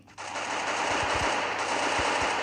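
Sustained automatic gunfire from the video game Free Fire, a dense continuous rattle that carries loudly throughout with a few deeper thumps underneath.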